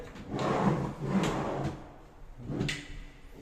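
Drawers at a hospital outpatient department cashier's counter slide open and shut in a few soft, nearby wooden scrapes and bumps, with brief knocks in between.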